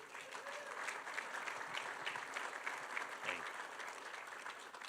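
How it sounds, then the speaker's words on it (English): Steady audience applause at a general session in a conference room, a dense wash of many hands clapping throughout with a faint voice briefly under it. "Let's give Jill one more round of applause."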